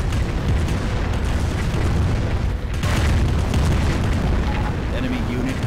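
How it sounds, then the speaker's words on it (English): Calliope rocket barrage from twenty units in the strategy game Company of Heroes, a continuous wall of rumbling booms and overlapping explosions, loud and dense throughout with no distinct gaps. "20 individual units firing the Calliope Barrage."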